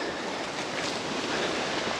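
Steady rushing water from a small creek crossed on a hike, a continuous broadband wash close to the microphone with no voices.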